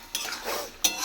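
Chopped tomato goes into a pan of pointed gourd cooking with prawns. A spoon gives two close, quick scrapes and a soft rustle of stirring, over about a second.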